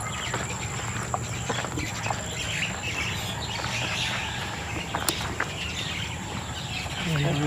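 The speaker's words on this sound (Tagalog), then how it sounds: "Oh, daming ibon." Many birds chirp and twitter in a busy chorus outdoors along a bay walk, steady throughout, with a faint voice murmuring now and then underneath.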